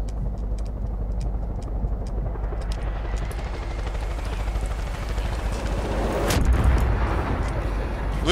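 An enemy helicopter in Far Cry 5 thrums steadily with a close, continuous rotor and engine roar that swells louder toward the end, joined by a sharp burst of impacts.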